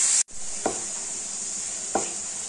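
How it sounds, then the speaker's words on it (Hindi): Pumpkin fries on a medium flame with a steady close sizzle, and two distinct scrapes of a spoon stirring it in the pan. "मीडियम फ्लेम में फ्राई करेंगे और चलाते रहेंगे।"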